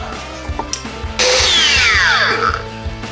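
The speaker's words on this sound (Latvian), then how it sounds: "Fleksim ātrā bremze, diezgan ātri beidz griezties disks" A Makita 40V cordless angle grinder spins up loud and steady, then its electric brake cuts in and the disc's whine sweeps quickly downward to a stop, with faint clicks and handling noise before it starts.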